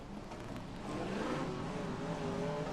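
BriSCA F1 stock cars race into the turns at Long Eaton, a steady roar of several engines that grows slightly louder midway, heard from trackside with no talking.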